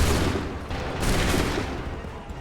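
Musket volley in Assassin's Creed III: dense crackling gunfire fills the whole span, loud and continuous, with a heavier burst near the middle and no talk over it.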